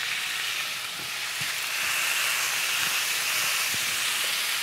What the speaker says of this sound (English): Drop our steak, give it a good press.